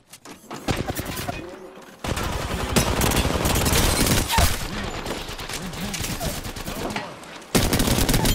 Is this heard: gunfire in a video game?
yes